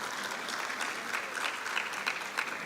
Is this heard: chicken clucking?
no